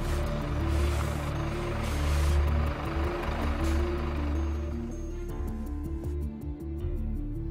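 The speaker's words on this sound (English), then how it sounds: "Now let's consider stopping a fully laden truck." A fully laden truck braking to a stop: heavy diesel engine rumble with steady drone that drops away, then hissing air brake release and clicking near the end, fairly close, no speech.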